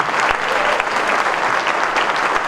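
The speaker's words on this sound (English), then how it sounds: "If I could have a warm round of applause for all these individuals and corporations" A warm round of applause for sponsors at a PGA section spring meeting, with a roomful of people clapping steadily and evenly for the whole stretch, loud and unbroken.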